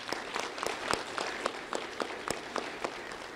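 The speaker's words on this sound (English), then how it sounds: "So a round of applause for them helping behind the scenes." An audience at a community honors ceremony applauds steadily, a dense bed of many hands clapping with a few sharper nearby claps breaking through, fairly quiet and heard from a distance.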